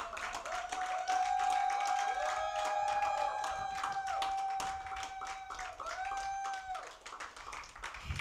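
A church congregation at a Sunday service claps steadily in rhythm while a sustained sung or shouted voice line rides over the top, the clapping dense and continuous throughout at moderate volume.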